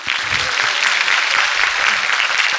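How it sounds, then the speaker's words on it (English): Audience applause at a TEDx-style talk show event, a steady, dense wash of clapping from a crowd that holds evenly throughout without any voices over it. "Yes, please clap."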